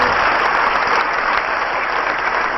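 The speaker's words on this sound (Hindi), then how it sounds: "ताली पीट करके उनका सम्मान करना" Audience applause at a lawyers' conference hall, dense and steady, filling the room loudly and continuously with no speech over it.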